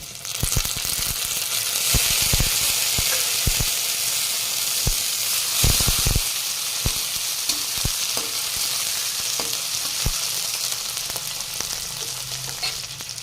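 Chopped tomato fries with pumpkin and onion in a pan, a loud continuous sizzle broken by sharp scraping stirs and spatula clicks at irregular intervals, without talking.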